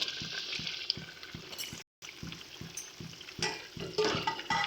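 Fried prawns go into a simmering coconut and poppy-seed gravy in a pan, with soft, rhythmic bubbling and wet plops close by and a short break in the sound partway through.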